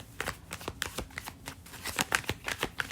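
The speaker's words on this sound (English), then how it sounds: "I'm spending so much of y'all time shuffling." Playing cards riffle and snap in quick, uneven bursts of crisp flutter as they are shuffled, close up and steady, with no talking.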